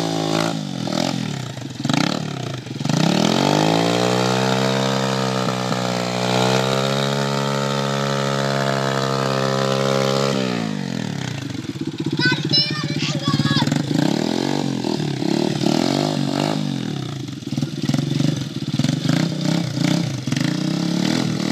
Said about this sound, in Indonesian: Itu harus kau gas, kalau enggak kendelep itu nanti.